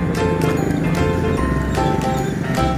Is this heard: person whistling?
no